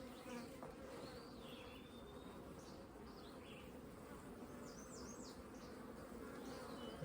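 Honey bees buzz in a dense, continuous drone at an opened hive during a brood-frame inspection, with individual bees zipping past close by over the steady hum.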